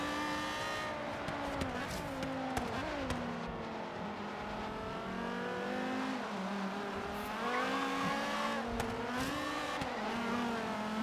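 A racing car engine in Forza Horizon 3 revs and climbs through the gears in repeated rising whines, with brief dips at each shift and occasional tire squeal, loud and continuous with no talk.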